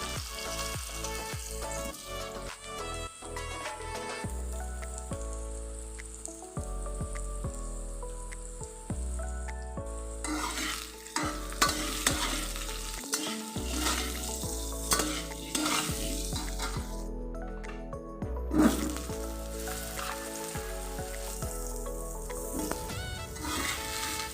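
Potato and brinjal pieces fry in mustard oil in a kadai, a steady close sizzle with frequent scraping and stirring clatter throughout, and no voices.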